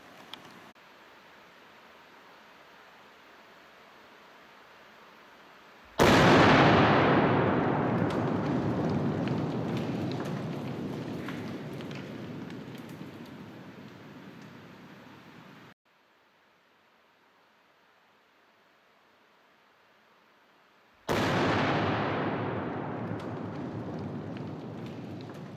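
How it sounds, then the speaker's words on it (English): Heavy detonating cord blasts the face off granite rocks outdoors. Two sudden, loud bangs each burst into a roaring wash of noise that slowly fades over several seconds, with a quiet stretch between them. "And there we have it. Rocks cut with heavy detonating cord."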